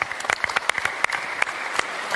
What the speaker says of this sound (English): I think that deserves a little applause.